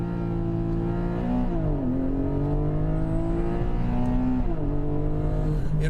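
A Porsche launching in Sport Plus mode accelerates hard, its engine note climbing steadily through several gear changes, each marked by a brief dip before the pitch rises again, loud and close throughout.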